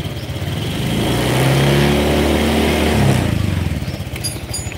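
A Honda Vario scooter engine idles steadily while warming up, its engine temperature at 76 degrees. The close, even hum runs continuously with a slight swell midway and a few light clicks near the end.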